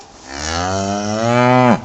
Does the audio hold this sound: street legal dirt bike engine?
no